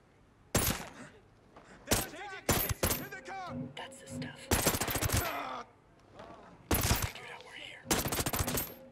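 Bursts of assault rifle fire in Ghost Recon Breakpoint during a night-vision raid, several sharp loud volleys spaced across the scene with brief gaps between them, standing alone without talk.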